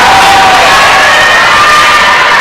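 A loud crowd cheers and shouts at a women's college volleyball match between Rocky Mountain College and MSU Billings, a dense sustained roar close at hand.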